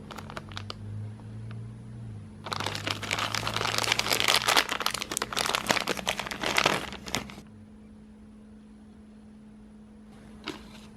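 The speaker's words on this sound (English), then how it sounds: "So we'll separate the old gear, transfer case motor gear." Old transfer case actuator motor gear from a BMW X5/X3 is pulled apart, giving a burst of close crinkling, crunching and clicking over a few seconds against a steady low hum, then quiet.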